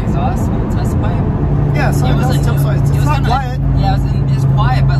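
A Honda S2000 with a Type S exhaust and test pipe runs with a low, steady engine hum under near-constant conversation, close by and moderately loud.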